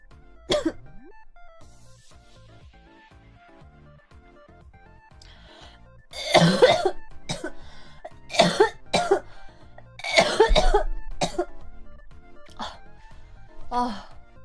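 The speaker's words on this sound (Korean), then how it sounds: "그냥 말을 하면서 바람이 왔다 갔다 하니까 말 안 해도 기침하긴 합니다" A girl coughs in a room, a few harsh, loud coughs and throat-clearing bursts in short clusters, with quieter pauses and faint background sounds between them.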